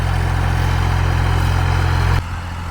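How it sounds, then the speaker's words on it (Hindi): Close, loud, throbbing diesel engine of a 745 tractor pulling a 13-tine cultivator, running steadily with a low pulsing rhythm before the sound drops off abruptly near the end, with no talking. "745 ट्रैक्टर दिखा रहा हूं जो 13 टाइन के कल्टीवेटर पर चल रहा है"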